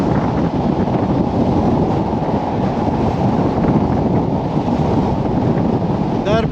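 Strong onshore wind roars across the microphone on the sea shore at Palanga after a storm, with surf crashing in a continuous loud wash and no clear speech.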